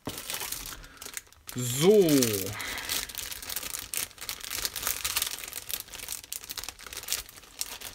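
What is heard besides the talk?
rustling plastic bag of a model kit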